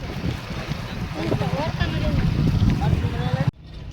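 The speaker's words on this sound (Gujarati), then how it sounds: "અત્યારે આપણે આ બોટમાં બેહીને શિયાળ બેટ જવાનું છે" A boat carries passengers out to Shiyal Bet island off Gujarat, a steady engine drone mixed with wind buffeting the microphone and people talking over it, cutting off sharply near the end.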